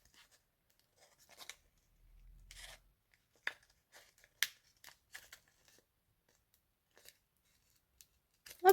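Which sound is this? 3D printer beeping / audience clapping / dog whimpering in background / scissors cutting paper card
scissors cutting paper card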